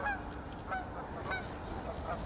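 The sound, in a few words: geese honking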